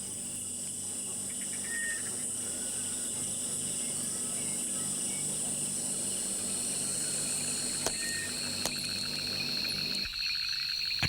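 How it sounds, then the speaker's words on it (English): A tree frog calls at night in Kruger National Park, its repeated notes set over a dense, steady chorus of insects and other frogs, continuous and moderately loud throughout. "A tree frog"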